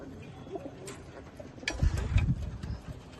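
Racing pigeons in a loft at Chinsurah, Hooghly give soft low coos, a couple of rounded calls rising toward the end over a quiet room with light background noise.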